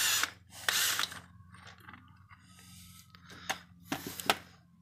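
A drill bores out a head bolt thread hole in a Toyota Camry engine block, producing short close whirring bursts and metallic ratcheting between pauses, with no talking.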